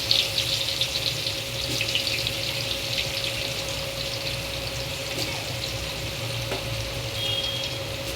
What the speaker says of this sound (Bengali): পেঁয়াজগুলো আমি বেরেস্তার মতন করে ভেজে নেব।